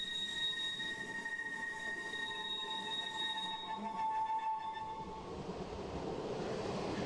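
Train wheels squeal on the tight curve at the entrance to Gais station in the Swiss countryside: a steady, piercing multi-tone screech that carries for several seconds, then fades into rumbling rail noise.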